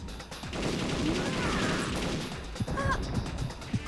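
Gunfire in the video game Perfect Dark Zero: a steady rattle of shots under the in-game din, with a few sharper, louder cracks near the end.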